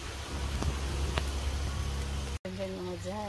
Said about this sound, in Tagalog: Uy, ulan mga Jay.